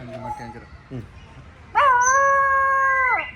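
A person makes a few short yelping dog sounds, then imitates a long, sustained dog howl that holds steady before cutting off.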